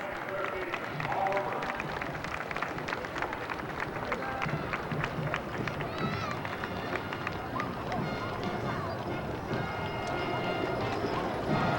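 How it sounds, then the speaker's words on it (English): Horses move along a street in a commemoration parade of vehicles and horse-drawn buggies, their hooves a steady busy patter beneath a continuous crowd din and nearby talking. "just look at the various kinds and all the different horses"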